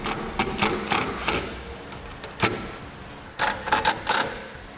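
Self-tapping screw driven with a 1/4 inch socket during a trailer brake kit install on a 2012 Kia Soul: irregular bursts of clicking, ratcheting mechanical noise with short pauses, close and moderately loud.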